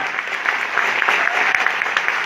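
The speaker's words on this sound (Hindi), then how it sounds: "मैं चाहूंगा इन सारे यूथ आइकन्स के लिए एक बार जोरदार तालियां।" An audience at a youth empowerment seminar in Amritsar, Punjab, breaks into hearty applause, a thick, sustained roar of clapping with a few sharper individual claps standing out, loud and close throughout.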